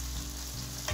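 Ginger-garlic paste sizzling in hot oil with onions and chilies, a steady close frying hiss that holds through the whole short moment.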